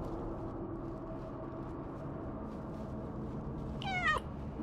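A single short meow from a cat rises near the end of a faint, steady ambient hum in the video game Stray.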